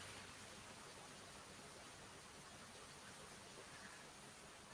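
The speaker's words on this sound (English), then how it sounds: "I think you can probably hear that rain." Heavy rain pouring down outside on an Easter bunny craft day, a steady, even hiss of rainfall that carries on without a break, alone and with no speech.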